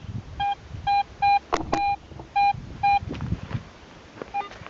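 A Garrett AT Pro metal detector sounds a series of identical high, clean beeps, about six evenly spaced, loud and close, over soft rustling and handling noise.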